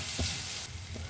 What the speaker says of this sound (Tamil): சேர்த்துட்டு நல்லா கிளறி விட்டுக்கோங்க